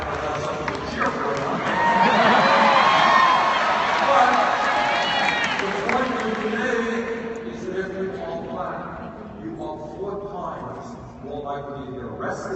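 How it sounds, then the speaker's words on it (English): Crowd at a rally in Norfolk cheering and applauding loudly, swelling for several seconds then fading into scattered clapping and shouts, heard alongside amplified speech. "I know that's something to cheer for"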